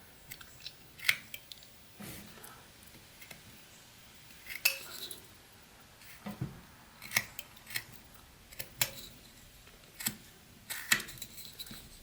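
A whittling knife notches and cuts small wood slivers while carving a 28mm miniature gnome, producing faint, sparse, crisp snicks and scrapes at irregular intervals, close up against a quiet background.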